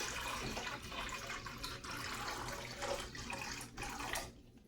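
Tap water runs into a pot over eggs in a kitchen, a continuous gushing and splashing stream, moderately close, that cuts off at the end.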